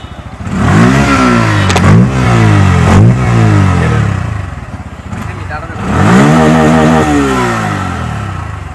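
A new motorcycle, a model offered with single- or dual-channel ABS, is revved hard several times, its engine note rising and falling in loud close surges with idle dips between them.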